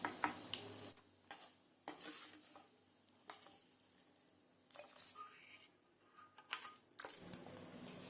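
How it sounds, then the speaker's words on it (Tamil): Roasted urad dal, dried chillies and tamarind are scraped from an oily pan onto a plate, giving intermittent metallic scrapes and clatters with soft rustling between them and brief quiet pauses. "நல்லா வறுபட்டதுக்கு அப்புறம் இதை வேற ஒரு பிளேட்டுக்கு மாத்திக்கலாம்."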